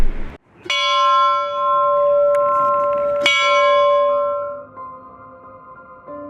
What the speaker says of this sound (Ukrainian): прозвучали удари дзвону